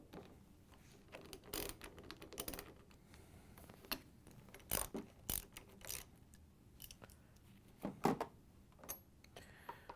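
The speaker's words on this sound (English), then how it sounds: "we can use our 3/8" socket with the ratchet to take out the screws" A 3/8 inch socket ratchet clicks in short, quiet bursts of rapid ticking, removing the screws from a Frigidaire/Electrolux refrigerator hinge, with a few louder knocks between bursts.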